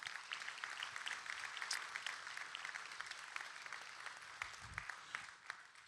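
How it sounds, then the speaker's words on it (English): Applause from an audience at the Folsom State of the City address, a steady wash of many hands clapping that holds for several seconds at moderate loudness, with no voices on top. "How about a big round of applause for all of them?"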